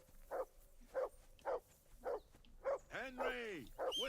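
A dog barks repeatedly in Kingdom Come Deliverance II, a steady run of about eight sharp, evenly spaced yaps at moderate loudness, with a whining, whimpering yelp near the end.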